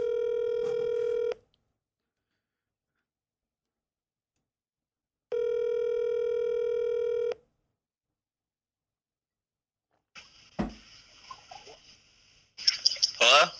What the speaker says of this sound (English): About to get Mr. Josh Tillman on the phone.